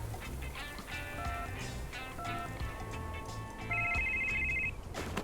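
A phone in the VR game The Walking Dead: Saints & Sinners rings with a bright, tonal electronic ringtone, its repeating chimes growing louder toward the end.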